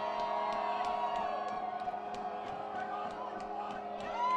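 Homecoming college football crowd at a stadium gives a sustained, moderately distant roar with scattered whoops and cheers rising and falling throughout, swelling slightly louder at the end.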